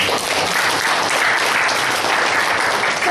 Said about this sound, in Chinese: 拍手我们的上帝哦！